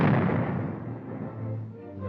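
A 1953 US Army tank gun fires a tracer projectile, a single heavy boom with a long rolling decay, loud and alone with no talk over it.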